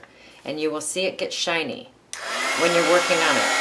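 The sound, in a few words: heat gun melting embossing powder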